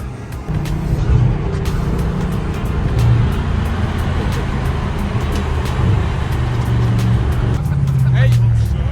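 A car rolls slowly along a road, its low engine rumble and tyre noise steady and close throughout, with a voice talking over it.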